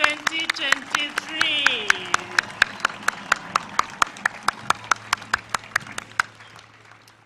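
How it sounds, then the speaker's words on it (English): Sharp, evenly spaced claps from an audience at a university graduation ceremony in Kenya ring out in a steady rhythm, with a voice speaking over the first few seconds. "please join me in giving a round of applause to the graduating class of"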